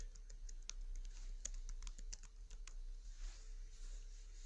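Code being typed on a computer keyboard, with steady, close clicking keystrokes in quick irregular bursts over a low constant hum and no voice.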